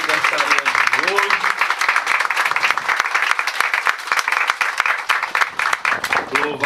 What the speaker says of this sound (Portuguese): Vamos bater uma bonita salva de palmas à aniversariante de hoje.